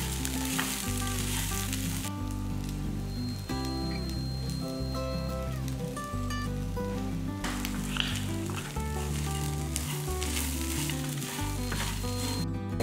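Drumstick leaves and grated coconut sauté in a pan, giving a continuous close sizzle with faint stirring, partly buried under loud background music with steady tonal chords.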